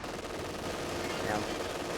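Steady machine gun fire rattles continuously under a commentator's voice during a competitive video game match, sounding fairly dense but somewhat distant and subdued.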